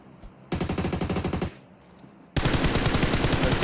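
Automatic fire from a Groza rifle in PUBG Mobile: a rapid, evenly spaced burst of about a dozen shots, a brief pause, then a second louder, denser burst that keeps going to the end.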